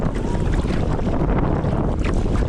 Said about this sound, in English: definitely just full on windy now, constant wind